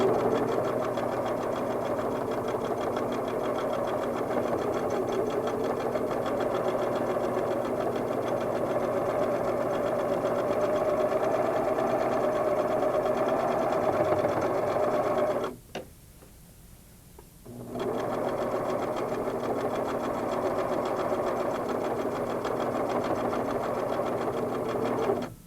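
A Singer sewing machine runs steadily while stitching a quilt, a continuous rapid mechanical whirring and ticking up close that stops briefly for about two seconds and then resumes at the same pace.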